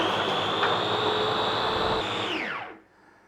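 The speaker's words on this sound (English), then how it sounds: "it's not a blender as such, it's a chopper, and it's going to fine chop" An electric food chopper fine-chops kimchi ingredients with a loud, steady whirring drone, then its motor winds down and stops near the end, leaving near silence.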